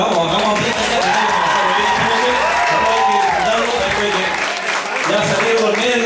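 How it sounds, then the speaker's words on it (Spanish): Loud, steady applause from a crowd at a festive peña gathering, filling the whole stretch with dense clapping mixed with cheering voices and chatter. "A fuerte el aplauso, ¿eh?"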